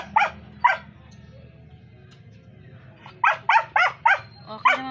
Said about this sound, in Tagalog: Nagiging makulit na naman! Tahol ng tahol!